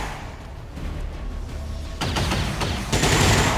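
Suppression gunfire in XCOM 2, a sustained burst of rapid automatic shots that grows louder and denser partway through, continuous and forceful with no speech.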